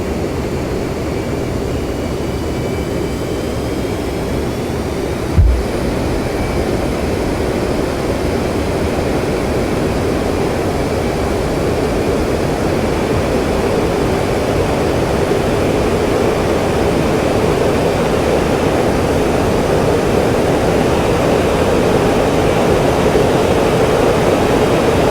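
An F-15C Eagle in the DCS World flight game at full throttle, a loud, steady roar of jet engines with a broad rushing hiss that holds throughout, one brief click near the start.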